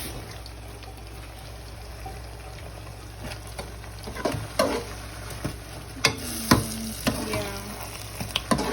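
Onions sauté in a pan for a Sierra Leonean molokia sauce, a steady soft sizzle with scattered clicks and scrapes of stirring growing busier toward the end, heard close up while a voice speaks briefly.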